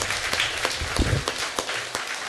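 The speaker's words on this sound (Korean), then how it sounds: "박수로 환영해 주시기 바랍니다" A church congregation applauds to welcome a first-time member, dense clapping heard from the hall at a moderate level, a few louder individual claps standing out over the crowd.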